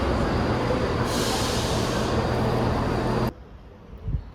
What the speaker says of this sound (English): little close-up of the train coming up